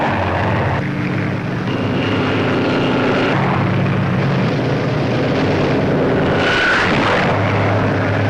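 WWII propeller aircraft engines on D-Day, June 1944, drone loudly and continuously, swelling as planes pass overhead, with wind rushing against the microphone.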